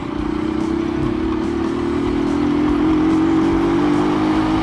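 A 2018 Rusi Neptune 125 motorcycle idles close by, its engine running with a steady mid-pitched drone and rattling vibration that grows slightly louder, with no talking over it.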